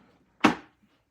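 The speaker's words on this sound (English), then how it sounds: "Has a nice little pop sound when you do it. Like a briefcase." Latches on an antique Crisloid game board case pop open in a single sharp click, close and fairly loud against a quiet room.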